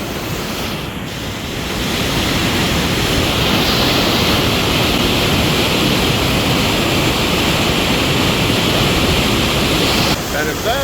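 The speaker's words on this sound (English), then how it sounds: "you can see the water gushing out to all the way to the left" The Rogue River gushes through rock channels in a loud, continuous roar of rushing water, close by and steady, with some wind buffeting the microphone.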